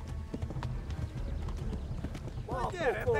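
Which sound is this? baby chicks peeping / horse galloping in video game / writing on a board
horse galloping in video game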